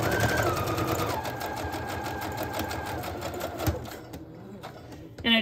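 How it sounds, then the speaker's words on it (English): A sewing machine runs a straight stitch around patchwork pieces for a bohemian patchwork journal cover, a steady fast mechanical chatter that carries on for about four seconds, then stops and leaves brief quiet handling sounds. "I'm just going to kind of start sewing around each piece. And I'm just going to do a straight stitch."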